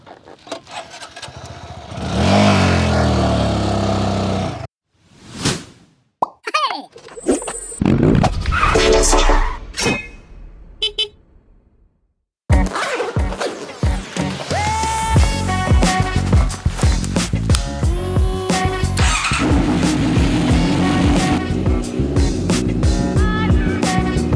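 A motorcycle revs and rides past, its engine loud and close, with bursts of acceleration, a brief drop to silence midway, then a steady strong engine drone carrying on to the end.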